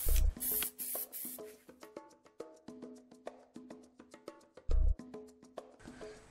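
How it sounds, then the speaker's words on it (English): Aerosol spray paint coating sanded, cleaned steel, heard as a series of short hissing bursts with two longer sustained sprays, close and fairly quiet, separated by faint clicks and rattles. "coat using an aerosol spray"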